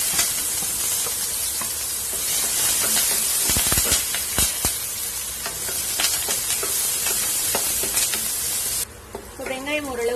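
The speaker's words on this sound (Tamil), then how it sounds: "வெங்காயம் ஓரளவுக்கு வதங்கிடுச்சு." Onion, curry leaves and red chilies sizzle and sauté steadily in a hot pan, with the sharp scrape of stirring now and then, loud and close for the whole stretch.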